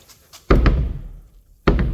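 A plywood deer blind door swings shut against its stop twice, each a solid, close wooden thunk with a short boom, about a second apart, in a quiet setting.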